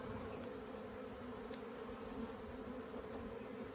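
A small honey bee swarm buzzing at a hive, a steady dense drone of many wings, faint and continuous without pause.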